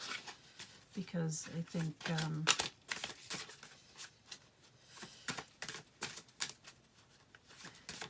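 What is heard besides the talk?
shuffling Sacred Path cards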